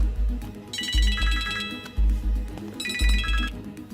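A telephone ringtone trills loudly in two repeated electronic bursts over a thumping beat in a Bollywood action film scene.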